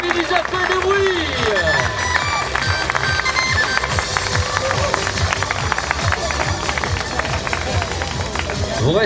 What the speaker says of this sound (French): Tonnerre d'applaudissements, le podium général.